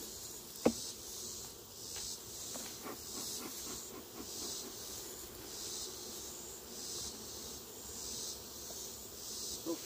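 A dense, steady buzz of many honeybees close by around the hive, humming continuously with a few faint clicks and knocks, no one speaking.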